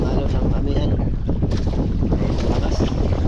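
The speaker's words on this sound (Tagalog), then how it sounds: "Malalaki yung alon ng amihan." Strong monsoon wind and big sea waves around a fishing boat at sea, a loud, constant roar of gusting wind buffeting the microphone with churning water beneath, steady throughout.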